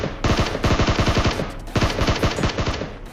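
Battle royale game gunfire comes in two loud, close, rapid automatic bursts separated by a short pause, with dense repeated shots in each burst.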